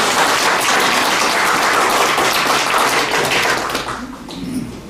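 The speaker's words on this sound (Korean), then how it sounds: "큰 박수로 함께 축하해 주십시오." Applause at a newspaper's 22nd anniversary ceremony: a dense, loud round of clapping from an indoor audience that holds steady for several seconds, then fades out.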